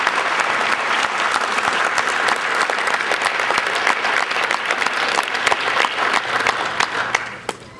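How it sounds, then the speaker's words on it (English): Steady, close applause from an audience honoring graduating officers at a military captains career course ceremony, many hands clapping evenly before tapering off at the end. "Please join me in a round of applause for these officers"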